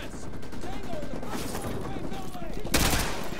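Rapid gunfire in Modern Warfare 2 Remastered, a steady burst of shots aimed at a TV, running under quiet background sound and ending in one louder, sharper blast near the end.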